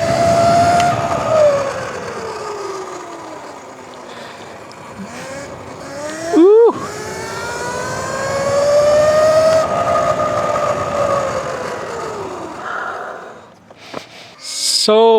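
Burromax TT1000R 48V electric mini bike ridden for a brake test, with a continuous whining motor tone that sweeps up and down as it speeds and slows, a sharp squeal near the middle, and faint voices.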